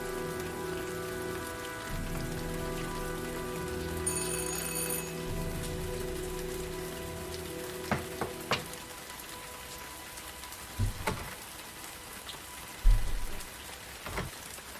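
Heavy rain pours steadily in the video game Heavy Rain, a dense hiss of drops on surfaces throughout, with a brief ringing tone early on and a few soft thumps later.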